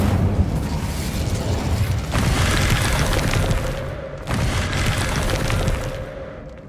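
Fire spell Incendio cast in Hogwarts Legacy: loud, sustained whooshing roar of flames in two bursts, the second starting after a brief dip, with a low rumbling boom underneath and no talking.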